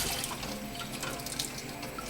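Cold tap water runs steadily over eggs in a sink, a close, continuous splashing rush with no voices.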